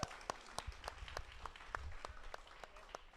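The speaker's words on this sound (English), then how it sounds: "Welcome him in, everybody. Round of applause." A small audience at an Australian fantasy football social meetup in Sydney gives a round of applause, quiet and somewhat distant, with sharp individual claps standing out over a light background of hands.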